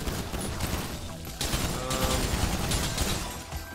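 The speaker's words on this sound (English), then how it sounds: "let's shoot some townies" Dense, continuous gunfire in GTA Online, shots packed tightly into a loud, unbroken clatter with sharp cracks and rattling that never lets up.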